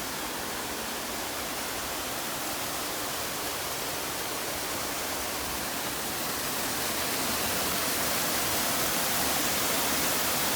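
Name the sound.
waterfalls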